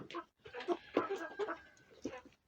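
Young hens and cockerels about three months old cluck in short, close bursts with brief gaps, a busy irregular run of calls at a village farmyard.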